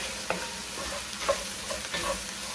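Rice toasts in a pan with spicy Italian sausage, sizzling softly as a utensil stirs and scrapes it in a few quick, distinct strokes against a steady frying hiss.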